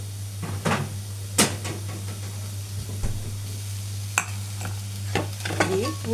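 Onion tasbika for Egyptian mahshi frying in a pan, a steady sizzle beneath a steady hum, broken by sharp clicks and knocks as the onions are stirred, close by and without talk.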